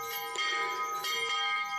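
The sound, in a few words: church bell ringing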